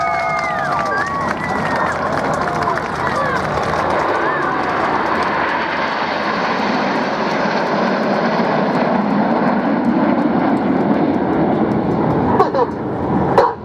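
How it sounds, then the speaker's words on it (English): Red Arrows jet engines at a simulated Scottish airshow in FlightGear roar steadily and build in power, with crowd-like noise and an announcer's voice over the top. "A little bit more power coming on the engines as the speed builds up."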